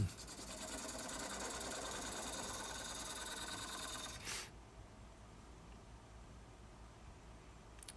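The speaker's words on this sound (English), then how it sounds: "Getting the basic tenon turned with the bowl gouge." A wooden bowl turned on a lathe with a bowl gouge, shaping the tenon: steady close scraping and whirring of the cut for about four seconds, then only the quieter hum of the spinning lathe.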